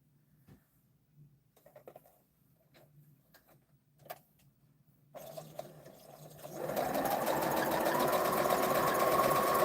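A sewing machine stitches a quilt four-patch block, starting after a few soft clicks and handling sounds, then whirring loud and steady to the end.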